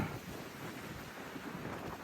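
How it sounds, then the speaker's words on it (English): Wind blowing across a hiking trail on a cold uphill stretch of the Appalachian Trail, a steady broadband rush buffeting the microphone with low rumbling gusts throughout, no talking. "oh, you can hear the wind"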